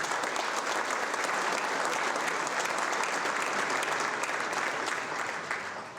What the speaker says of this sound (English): Give these boys a round of applause, please.